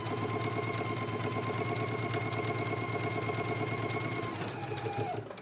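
A sewing machine runs steadily, stitching the front band of a jacket to the right front along the lower edge with a 5/8-inch seam allowance, a continuous mechanical hum that holds nearly all the way through before easing off at the end.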